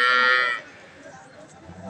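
A Holstein Friesian cow lets out a single short, fairly loud moo at a cattle market, which cuts off quickly and leaves a low murmur of background noise.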